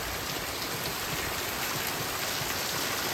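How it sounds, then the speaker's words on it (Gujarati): Heavy rain pours down at night in a dense, steady hiss, loud and unbroken, with no voices. "અત્યારે વરસાદ પડે ને બહુ પડે, અનહદીમ પડે"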